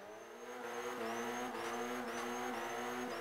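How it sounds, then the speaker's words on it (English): A rally car engine in Forza 5 drones and revs steadily at low speed while reversing, the pitch wavering slightly as it moves. "I'm just going to reverse back up here."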